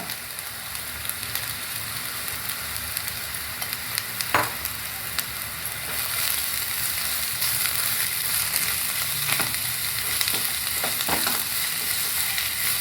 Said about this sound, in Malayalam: ചീര ഇട്ട് കൊടുക്കാം ഒന്ന് വാടിയാൽ മതി കേട്ടോ